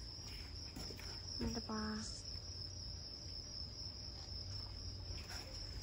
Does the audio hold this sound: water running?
no